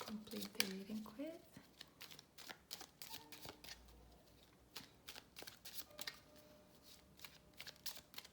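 Small oracle cards, tinier than tarot cards, are shuffled by hand in quick papery riffles and flicks, close and quiet, spread across the whole stretch with a soft voice talking at the start.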